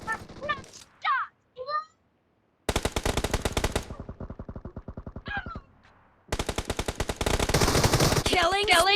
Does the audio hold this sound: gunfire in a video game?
yes